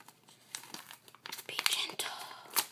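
Paper crinkles and rustles as a mailed trade package is unwrapped by hand, with bursts of crackling that grow busier and louder toward the end and soft breathy voice sounds mixed in.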